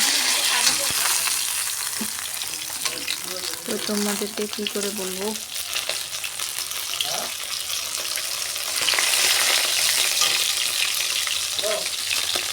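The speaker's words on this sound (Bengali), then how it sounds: "আমার প্রায় মাছ ভাজা হয়েই গেল" Fish fries in a pan with a loud, steady sizzle close up, and someone speaks briefly over the hiss.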